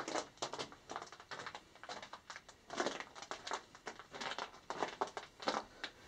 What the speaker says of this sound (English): What you're hearing is dried mud cracking.